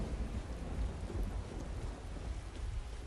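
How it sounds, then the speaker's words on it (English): Rain and rumbling thunder in the game Skyrim make a dense, steady wash of downpour over a deep, continuous low roll, with no talking. "This rain is terrible, I swear."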